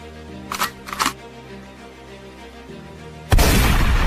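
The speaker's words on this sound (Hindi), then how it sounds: "अबे कौन है और किसने गोली चलाई?" A sudden loud, sharp blast near the end, with a sustained broadband burst after it, following a few soft clicks and quiet background hum.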